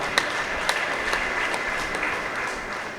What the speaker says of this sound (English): Let's give General another better clap